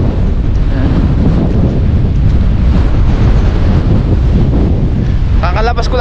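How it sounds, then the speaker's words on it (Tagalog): Strong wind roars steadily into the microphone for the whole stretch, a loud broadband rumble with gusts, and a brief burst of other sound near the end. "Lakas ng hangin ngayon."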